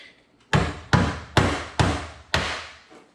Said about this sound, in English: that just cut straight through that weld